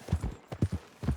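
Horse hooves clip-clopping in the video game Red Dead Redemption 2, a steady close walking rhythm of hollow thuds, a few beats each second, with no other sound over it.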